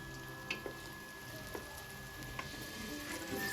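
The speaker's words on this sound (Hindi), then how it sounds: "सो यहाँ पर प्याज को हमने अच्छी तरह से भूनना है।" Onions frying in a pan for pulao, a faint, steady sizzle with a few soft clicks and stirring taps scattered through it.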